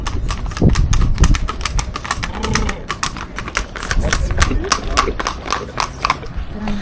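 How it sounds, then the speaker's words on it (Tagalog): A horse's hooves clip-clop in a steady, close rhythm on a road stop near Ananuri Fortress in Georgia, with people talking over the sound throughout. "There's a horse."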